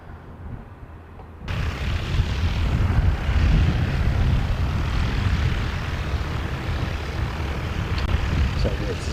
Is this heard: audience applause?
no